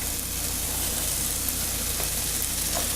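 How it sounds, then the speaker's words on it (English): Steady, close sizzling of pancetta frying in a hot pan, rendering its fat, a continuous crackling hiss with small pops and no voices. "You hear that sizzle?"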